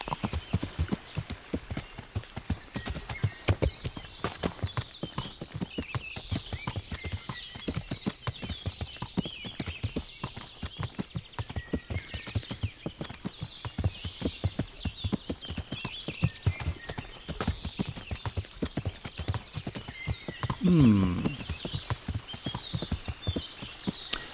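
Horse hooves clip-clop steadily while riding over rough terrain in Kingdom Come: Deliverance, a medieval role-playing game, with a brief whinny near the end, the hoofbeats close and continuous.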